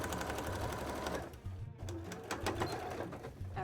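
A sewing machine runs in quiet, rapid rhythmic bursts while top stitching a cosplay headpiece, pausing briefly before resuming its soft mechanical chatter.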